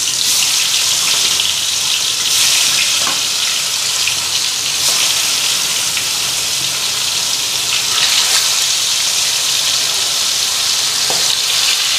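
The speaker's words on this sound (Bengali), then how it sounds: "তেলটাও কেন জানি ফুটফুট ফুটফুট আওয়াজ হইতেছে" Oil in a pan on a home kitchen stove sizzles steadily and loudly for the whole stretch, with sharp pops and sputters breaking through here and there, and no voices.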